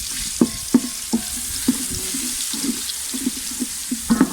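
Garlic paste added to browned onions frying in a pan for chicken yakhni pulao, giving a steady, close sizzle with occasional soft clicks and knocks of stirring.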